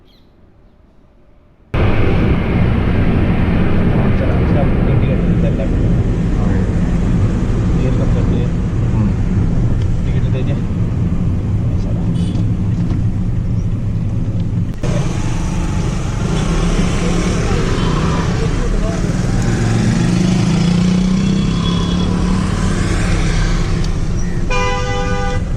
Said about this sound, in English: Now just listen to this engine.